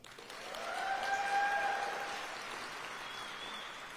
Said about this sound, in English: I know we've already done a lot of clapping,